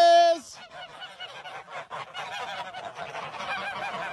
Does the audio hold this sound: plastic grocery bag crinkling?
no